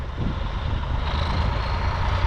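A heavy XTZ-150K tractor engine drones steadily at close range while ploughing with six shares, a low continuous rumble that builds slightly in intensity, with no speech.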